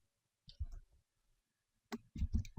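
Sharp mouse clicks on anchor points while drawing lines in Flash software: a short cluster of close, quiet clicks, a pause, then another quicker burst of several clicks.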